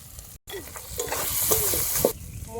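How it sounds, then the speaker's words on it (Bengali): Coriander paste, cumin and chili powder frying in masala for a rui fish curry, a loud close sizzle with stirring scrapes that swells after a brief drop to near silence, no talking. "এক টেবিল চামচ আমি এখানে ধনে বাটা দিয়ে দেবো আমি জিরে মরিচের গুঁড়ো এই মশলার উপরে দিয়ে দেবো"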